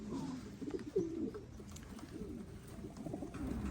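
Racing pigeon hens coo softly inside a loft, with repeated low, throaty calls overlapping at a fairly quiet level over faint room noise.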